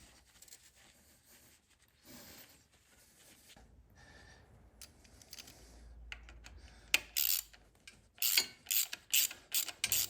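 Ratchet clicking as bolts on a 2018 Harley-Davidson Road Glide Special's Rekluse slave cylinder are tightened in turn, quiet mechanical handling at first, then bursts of sharp, close ratchet clicks toward the end.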